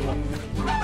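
A chicken clucking close by, a short, loud, nasal call over a low background hum.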